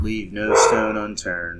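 Pet dogs bark in the background while someone talks over them, their yaps and tonal barks overlapping his speech at moderate distance.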